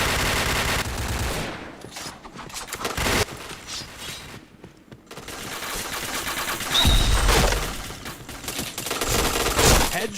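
Rapid bursts of automatic gunfire from the shooting video game Point Blank rattle loudly in clusters, with short pauses between volleys.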